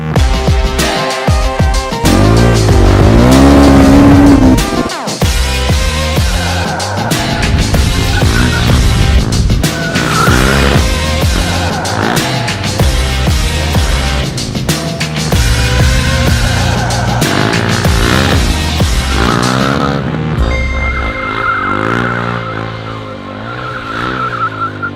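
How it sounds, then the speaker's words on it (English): A motorcycle drifts with its rear tire sliding, as a loud, continuous engine roar rises and falls under throttle, mixed with sustained tire squeal. It stays close and intense throughout, with no talking. "adding more throttle to lose the grip on the back tire, and you can lean and slide the bike on the floor"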